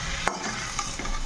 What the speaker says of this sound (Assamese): আৰু এয়া চাওঁ ভাজিখন আকৌ এবাৰ লৰাই লওঁ